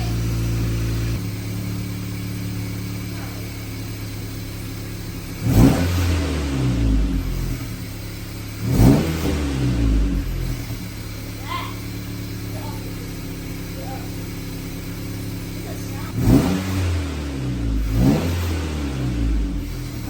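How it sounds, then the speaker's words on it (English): An Acura Integra engine idling after a front pipe install, then revved in several sharp bursts that rise and fall back to a steady idle, loud and close, with brief talk nearby. "rev it up a little bit."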